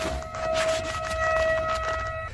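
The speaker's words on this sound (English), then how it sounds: "the sirens sound quite high-pitched, almost like a car horn beeping long and restlessly" A high, steady siren tone holds throughout, droning continuously over a faint background hiss.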